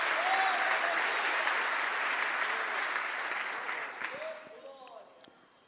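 Congregation applauding during a church service, broad sustained clapping that gradually fades, with a few faint voices and shouts emerging near the end.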